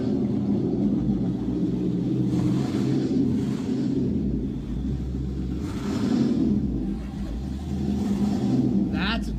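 An 800-horsepower armored car engine in the game Last Day on Earth rumbles and revs steadily, with swelling surges throughout, a constant low drone with voices mixed in.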